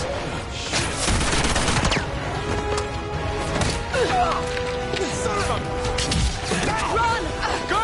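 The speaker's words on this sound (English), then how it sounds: "Fire, you fools!" Enemy gunfire in the action game Uncharted 2: Among Thieves, with dense bursts of shots and impacts over a steady game soundscape, loud and continuous, mixed with game voices shouting.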